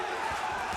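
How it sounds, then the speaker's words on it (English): Crowd at a boxing match cheering a fighter on during the bout, a steady continuous roar of many voices, loud and sustained without breaks. "And the crowd urging him on"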